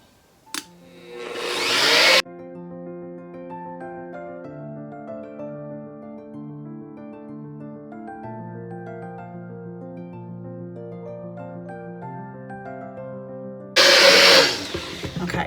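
Soap batter being mixed with fragrance oil and coffee, using a motorized blender that whirs in short loud bursts at the start and end, with a long stretch of soft tonal music in between.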